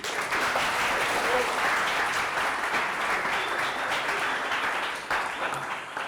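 A group claps steadily for a person named Robin, a dense, even round of applause lasting several seconds before tapering slightly near the end, with no talking over it.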